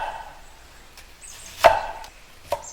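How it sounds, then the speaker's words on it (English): A knife comes down on an onion on a cutting board in a few sparse, sharp chops, close and distinct against a quiet kitchen with no talk. "Cut the onion."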